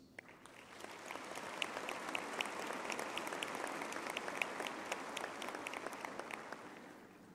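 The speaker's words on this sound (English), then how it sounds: "I think you deserve a round of applause" A graduation ceremony audience breaks into sustained applause, a dense wash of many hands clapping that swells quickly and holds steady throughout.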